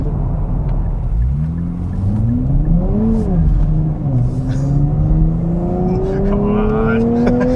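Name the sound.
Nissan manual car engine accelerating while driven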